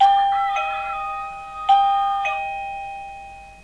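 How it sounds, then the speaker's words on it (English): An Avantek wireless doorbell chimes with clear electronic ding-dong tones. Three ringing strikes sound close and loud, each decaying smoothly over a quiet background. "we've got the cockerel inside the house and we've got the ding dong in the garage."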